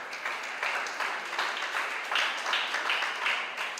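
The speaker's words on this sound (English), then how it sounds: "Please, let's clap our hands together." A school audience at a spelling competition event claps together in a steady, moderately loud wash of applause with a loose rhythmic pulse running throughout, with no talking.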